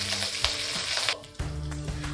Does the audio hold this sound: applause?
no